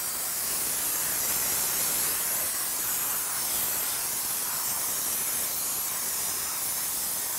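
Spray foam insulation hisses out of the applicator onto rim joists in one loud, continuous, even rush of spray that holds steady from start to finish.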